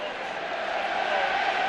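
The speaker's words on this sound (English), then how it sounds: "it sparked the Leeds crowd into life again" A Leeds rugby league crowd roars on its feet as a fight breaks out, a dense, steady wall of massed voices that swells slightly toward the end.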